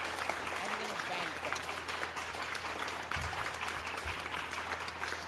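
Applause from a live game show audience, a dense wash of clapping mixed with crowd noise and some low voices, steady throughout.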